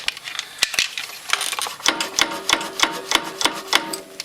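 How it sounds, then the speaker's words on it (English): Hand grease gun pumping grease into a newly fitted grease fitting on the rear brake of a Honda Recon 250 ATV, a rapid series of sharp metallic clicks and ratcheting strokes, close and loud, in a steady rhythm. "You just stick your grease gun on here, just like that. Pump it up."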